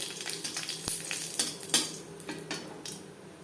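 Refined oil heats in a pan for a raw mango chutney, giving a faint, quiet sizzle broken by sharp metallic clinks and scrapes of a utensil against the pan.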